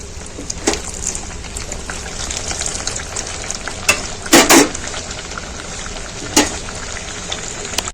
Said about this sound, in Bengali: লুচিগুলো বেলা হয়ে গেছে, একটা একটা করে সব ভেজে নেব।